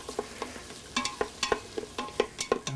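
Split peas are stirred while sautéing in an Instant Pot, with a quick, steady series of spoon scrapes and taps over a light sizzle, close and fairly clear.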